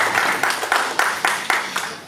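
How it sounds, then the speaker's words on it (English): A small audience at a church session claps for a guest named Paul, a brisk, close burst of hands that comes in rhythmic surges about every quarter second, with no one speaking. "Can you clap for Paul?"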